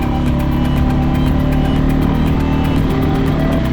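A Loncin LX 300 motorcycle engine drones loudly and steadily under throttle on the road, a dense continuous roar with close wind rumble and no voices.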